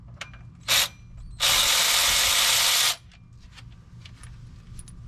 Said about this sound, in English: now that I have all of these flywheel bolts busted loose, I'm going to take out the top bolt